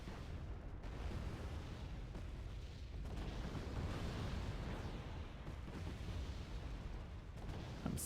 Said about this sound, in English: I'm still bombarding that zone.